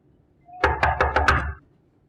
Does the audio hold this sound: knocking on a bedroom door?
yes